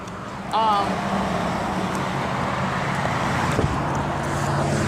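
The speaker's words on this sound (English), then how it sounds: "Oh, that car." A car passing on a warm Arizona street, a steady roar of engine and tire noise that swells briefly and continues alongside faint traffic, with a person talking over it.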